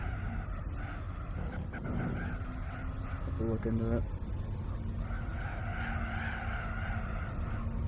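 Car engine in the Gran Turismo 4 racing video game, a steady droning hum with tire-skid noise running under continuous close talking throughout.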